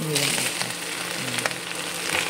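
Bottle gourd and ground meat frying in a pan with a steady sizzle, stirred now and then, while someone speaks over the cooking.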